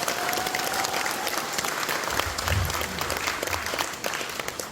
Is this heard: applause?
yes